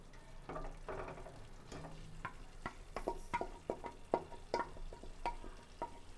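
Chickpea paste being stirred into roasted masala for dhaba-style black chickpea curry; quiet, irregular spoon scrapes and light clinks against the pot repeat over a faint background, without talking.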